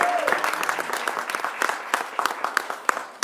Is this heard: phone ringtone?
no